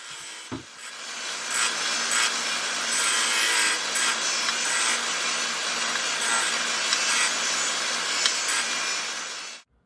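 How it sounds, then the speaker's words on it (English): A Shopsmith multipurpose woodworking machine set up as a sander grinds against a wooden workpiece, a steady loud abrasive rasp with a hum beneath, starting after a brief knock and cutting off abruptly at the end. "this machine that you see me using is actually a shopsmith"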